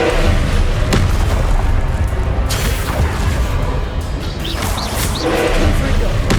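Expelliarmus spell impacts in Hogwarts Legacy combat, with several heavy booming blasts and crashes over a constant rumbling roar, loud and close.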